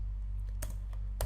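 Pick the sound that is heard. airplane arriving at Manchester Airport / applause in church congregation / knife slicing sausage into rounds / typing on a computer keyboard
typing on a computer keyboard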